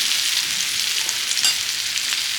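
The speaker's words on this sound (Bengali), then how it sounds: "এটা একটু ভেজে নিলাম তেল আর হলুদ দিয়ে" Food frying in a pan with oil and turmeric gives a loud, continuous bright sizzle, close by, with a few clinks and scrapes of stirring and no voices.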